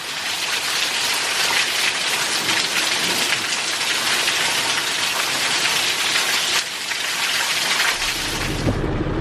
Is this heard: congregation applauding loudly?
no